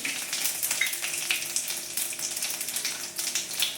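Half a teaspoon of asafoetida hitting hot tempering oil with mustard seeds and cumin, producing a steady, close frying sizzle dotted with small crackles, with no talking.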